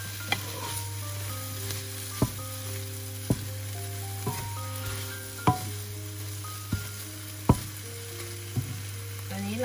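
Eggs stir-fried in a pan for a sea kale fried rice dish, a constant sizzle with sharp, regular clinks of a spatula against the pan roughly every second, close and with no talk.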